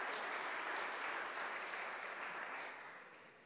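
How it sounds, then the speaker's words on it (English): A church congregation gives a round of applause during Sunday worship, dense clapping from many hands heard at moderate distance, slowly fading out. "Can we give her a round of applause?"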